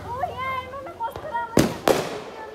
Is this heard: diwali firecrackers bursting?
yes